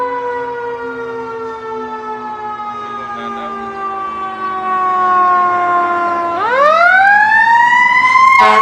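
Fire truck siren wailing loud and close, a long slowly falling tone that suddenly sweeps back upward near the end, continuous and without talk.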